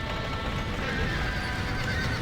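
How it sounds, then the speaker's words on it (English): Horses whinny amid clattering hooves in the video game Red Dead Redemption, buried in a dense, constant wash of loud noise with no clear pauses. "Gotta save these horses, John."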